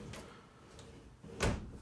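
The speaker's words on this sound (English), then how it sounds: "So nice retractable door." A retractable bathroom door in a 2020 Grand Design Transcend Xplor 260RB travel trailer slides with a faint rolling rustle, then ends in a short, sharper clack near the end, close and quiet.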